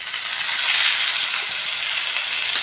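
Chopped tomato dropping into onions already fried in a pan for butter masala chole, a loud, steady hiss and sizzle running throughout with no talk.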